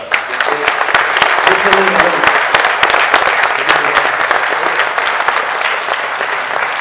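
An audience gives loud, sustained applause at a meteorite-hunting presentation, with many hands clapping close and full, accompanied by a few cheers and voices.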